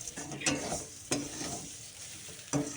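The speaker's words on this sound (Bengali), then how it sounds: "এবার ভালো করে নাড়াচাড়া করব সুন্দর করে নাড়বো জিনিসটাকে" Pea greens and fried mung dal are stirred in a pan, with a soft continuous sizzle broken by three distinct scraping strokes of the spoon, moderately quiet and free of talk.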